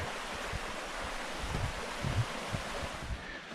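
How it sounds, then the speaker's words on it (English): Water flowing along a stream on an Appalachian Trail hike, a steady soft broadband rush with light wind noise, continuous and fairly close, no talking. "walking along a stream, and that quieting sound of the water"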